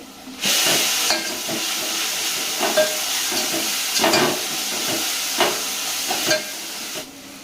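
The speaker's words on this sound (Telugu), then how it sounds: "ఈ అల్లం అంతా కూడా మంచిగా ఆయిల్లో ఫ్రై అయిన తర్వాత" Chopped ginger frying in hot oil in a pan for a Telangana-style boti (goat tripe) curry, a steady loud sizzle broken by several bursts of stirring and scraping, close up with no talking.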